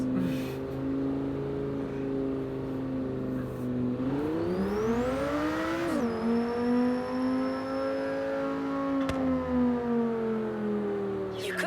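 Lamborghini engine in the racing game Forza Horizon, revving loud and close with a steady high drone that rises sharply around the middle, dips, then settles into a sustained roar, with a faint whistling tone above it.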